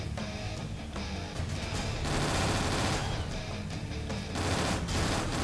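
Rapid, sustained automatic fire from a fast gun in the video game Jurassic the Hunted, loud dense bursts with brief dips between volleys.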